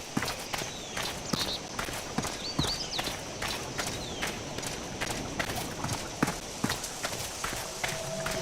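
Rhythmic horse hoofbeats clip-clopping steadily in the fantasy role-playing video game Sacred 2, a continuous walking-to-trotting gait with crisp, evenly spaced hits over faint background game ambience.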